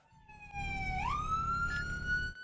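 Police car siren on a patrol car in Florida, a loud electronic wail sweeping upward and holding a steady high tone, close by over a low engine rumble.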